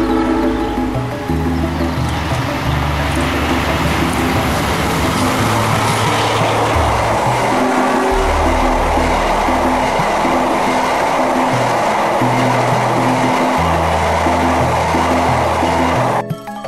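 A train of brand-new executive passenger carriages rolls past on the rails in Surabaya, a loud, steady rumble with rhythmic clacking of wheels over rail joints sustained throughout, close by and alone.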